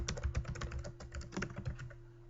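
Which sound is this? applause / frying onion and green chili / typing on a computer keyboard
typing on a computer keyboard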